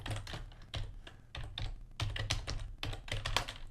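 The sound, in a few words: typing on a computer keyboard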